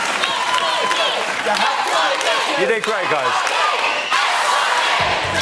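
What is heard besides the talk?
studio audience cheering and applauding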